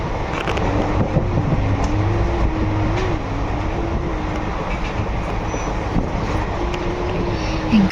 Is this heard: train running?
yes